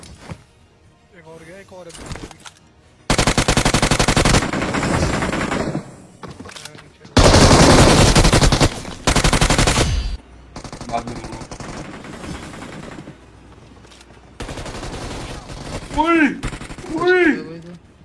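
Bursts of rapid automatic gunfire from a mobile battle royale video game, loud and dense, alternating with quieter stretches and a few single shots, with someone talking in between.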